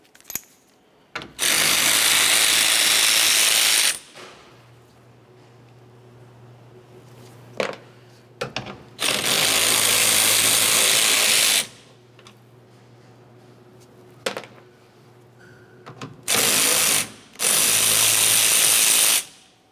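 Power ratchet backing out 8mm bolts from a 2001-2005 Ford Explorer Sport Trac tail light, four loud bursts of whirring spin separated by quiet gaps with small clicks and handling noises.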